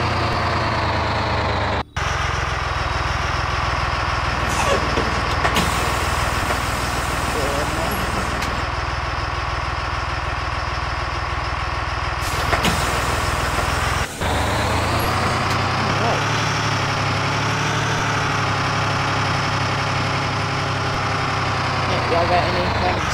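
A 2020 C2 school bus engine running with a steady low rumble throughout, under people talking nearby, with a couple of brief air-brake-like hisses and a shift in tone midway.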